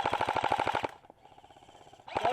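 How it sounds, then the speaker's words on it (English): Airsoft heavy machine gun at a UK skirmish, firing a rapid, loud burst of about a dozen close shots, then a pause with faint distant fire, and a second burst starting at the end. "Heavy machine gun. Give cover and fire as we're going down."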